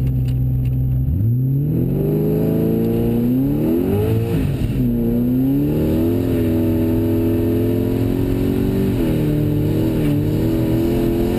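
A twin-turbo Saleen Mustang making over 1000 rear-wheel horsepower launches off the trans brake in first gear, a loud close engine roar rising sharply in pitch and holding a strained, wavering howl throughout, no talk.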